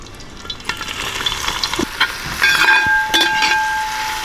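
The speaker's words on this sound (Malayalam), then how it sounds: "അപ്പോൾ നമ്മുടെ ഓയിലും ബട്ടറൊക്കെ ചൂടായിട്ട് ഇട്ട് കൊടുത്തിട്ടുണ്ട്. നമ്മൾ കട്ട് ചെയ്ത് വെച്ച സബോള," Sliced onions fry steadily in hot oil and butter in an outdoor kitchen, a close, continuous sizzle broken by scraping stirs of the spatula, with faint whistling tones above and no talking.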